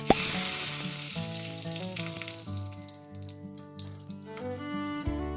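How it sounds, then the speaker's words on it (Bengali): Cumin seeds and curry leaves drop into hot oil left from frying peanuts for sabudana khichdi, bursting into a loud close sizzle that settles into steady crackling over a background of sustained tones, with no talking. "এবার এই তেলেই দিয়ে দেবো জিরে ফোড়ন, দিয়ে দেবো একটু কারি পাতা,"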